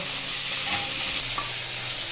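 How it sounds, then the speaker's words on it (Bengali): Cauliflower, half-fried in a pan while cooking an egg curry, sizzles in a steady, close, continuous hiss of hot oil with faint stirring, and no voices. "ফুলকপি এখানে অর্ধেক ভাজা হয়ে গেছে"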